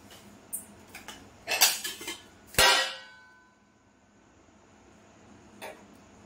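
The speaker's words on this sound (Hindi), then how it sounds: "तो मैं सारा बर्तन को नीचे रख दी हूँ।" Metal kitchen utensils and dishes are set down during late-night kitchen cleaning, giving a few sharp clattering clangs close by, the loudest a single bright crash, then quiet with one faint clink.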